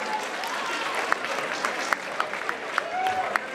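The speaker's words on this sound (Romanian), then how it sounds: "Aplauze pentru el, vă rog!" Concert crowd applauding a musician at a live rock show before a cover set; sustained clapping and cheering with sharp individual claps and whistles popping out, a voice briefly audible within the crowd.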